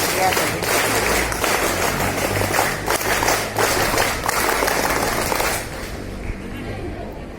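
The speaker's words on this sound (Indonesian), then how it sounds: "Tepuk pramuka" Audience at a junior high school student council candidate presentation in Maumere performing a rhythmic scout clap, dense overlapping claps with a few sharp accents, fairly loud and continuous, then fading to a quieter room with faint murmur near the end.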